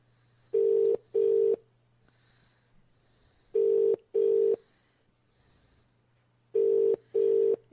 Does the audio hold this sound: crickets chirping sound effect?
no